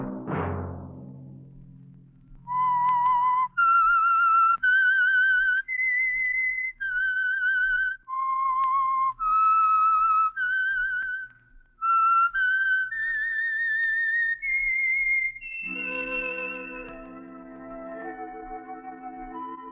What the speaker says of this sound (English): Let that whistle be your signal for the Signal Oil program, The Whistler, each Sunday night at the same time.